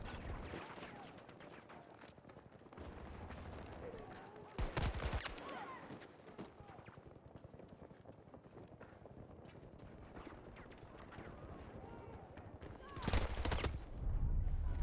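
Bursts of AK-24 rifle fire in a Battlefield shooter, several rapid volleys standing out loud against a steady background of game noise and low voices.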